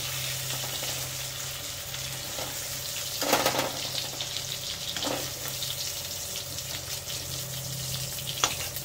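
Potatoes frying in a pan, with a continuous loud sizzle and a few sharper bursts of spatter or scraping over the hiss and no one speaking.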